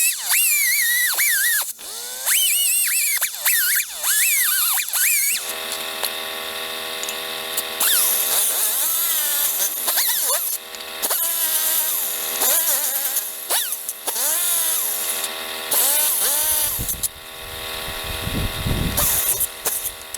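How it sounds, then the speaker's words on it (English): An air tool cuts the handle off a T-Fal One Egg Wonder frying pan at the base of the plastic, its high whine rising and falling in pitch through repeated short bursts and longer runs, close and loud. "We're gonna cut the handle off right at the base of the plastic there."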